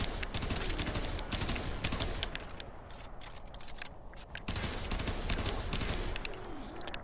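Tiberon Prime rifle in the Warframe video game firing in burst mode: dense, loud volleys of rapid shots keep coming across the whole stretch, with brief dips between bursts and no talk.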